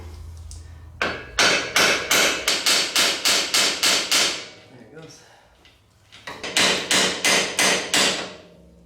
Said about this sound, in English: to get the ball joint and the tie rod end loose, you just hit what it goes through